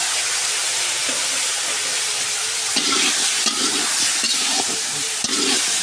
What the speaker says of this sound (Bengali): ফুলকপি আলু আগে ভাজে নিব।